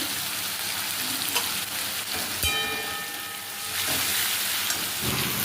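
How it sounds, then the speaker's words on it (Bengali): Onion and tomato fry in spices in a pan for a village-style chicken curry, giving a steady, close, dense sizzle like rain with a few brief pops and no voices. "পেঁয়াজ টমেটোটা মোটামুটি একটু ভাজা ভাজা হয়ে গেছে।"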